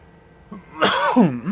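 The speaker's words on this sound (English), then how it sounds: "edit those coughs out" A single harsh cough bursts out close by, followed by a raspy, throat-clearing rumble.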